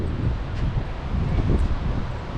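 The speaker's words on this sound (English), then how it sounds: "and lots of wind." Steady wind blowing through a shaded park full of trees and picnic tables, a continuous loud rushing buffet on the microphone with slight swells and no voices.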